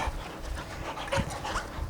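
Bonnie the dog panting close by, quick rhythmic breaths with a soft whine, loud and alone for a couple of seconds.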